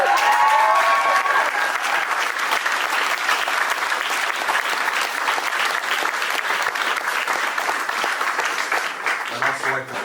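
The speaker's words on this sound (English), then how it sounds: "So we need to send out a big cheer for them." Sustained applause and cheering from a crowd at a rally against racism in Port Colborne, a dense, steady clapping that fills the whole stretch and fades slightly at the end.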